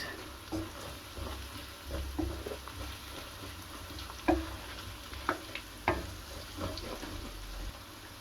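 Chili, cumin and coriander powder roast in a pan for chicken saag. A faint, low sizzle runs throughout, broken by a few sharp scraping stirs.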